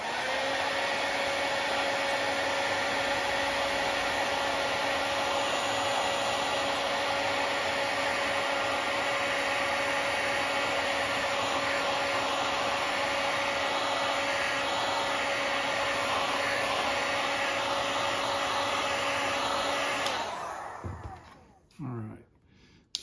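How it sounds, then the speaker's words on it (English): A heat gun blasts a loud, steady roaring hiss with a faint whine while shrinking glue-lined heat shrink tubing onto a wire connection, then cuts off near the end with a few small handling clunks. "And then I'm going to heat shrink that."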